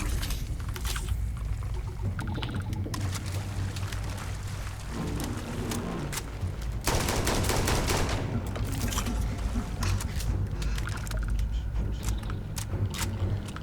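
Gunfire in the video game Starfield rattles in continuous loud bursts over a dense, rushing background, with heavier volleys in the second half and no speech.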